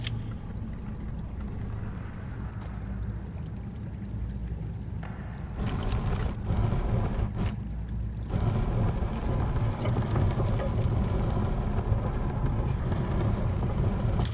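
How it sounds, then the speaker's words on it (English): Water beginning to flow in the video game Echoes of the End: a steady rushing, pouring wash that grows louder partway through and continues as a dense, constant flow with no voices. "There, that's got the water flowing."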